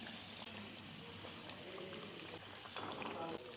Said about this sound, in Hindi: ऑयल हमने एक कढ़ाई में लिया है, ऑयल हमारा गर्म हो चुका है। अब हम समोसे इसके अंदर डालते जाएंगे